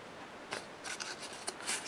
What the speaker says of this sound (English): I cut around here with my scissors